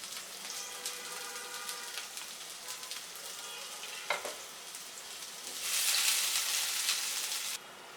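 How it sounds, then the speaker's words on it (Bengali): Chopped onion and garlic fry in oil in a wok with a steady crackling sizzle and faint stirring, then a louder, hissing burst late on before it drops back. "পেঁয়াজ রসুনটা একটু ভাজা হয়ে নিই।"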